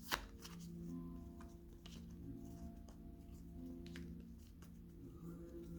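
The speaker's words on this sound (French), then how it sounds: "Avec ce jeu, je vais prendre 9 cartes." Playing cards shuffled and laid out one by one for a tarot-style reading, soft papery shuffles and taps over a steady low hum, close and quiet.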